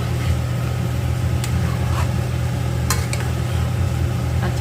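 Ridge gourd, taro and mrigal fish are sautéed on a high gas flame, giving a steady close sizzle over a low burner hum, with a few faint utensil clicks.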